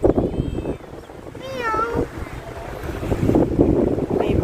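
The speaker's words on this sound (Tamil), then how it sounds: "ஏய் ஒரு கேட் வருது பாரு." A cat on the windy seaside waterfront at Mutrah, Oman, gives a single rising-and-falling meow, heard fairly close under steady gusty wind noise and a distant sea rumble.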